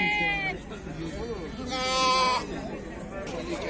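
Sheep bleat repeatedly at a livestock market in Fuzuli, with several wavering calls up close over a busy background of people talking.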